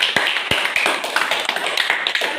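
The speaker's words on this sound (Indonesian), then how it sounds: "Kasih aplaus untuk Putri." A small group claps for a student during a classroom counseling session, a dense patter of overlapping claps with a few sharper near slaps, steady and fairly loud throughout.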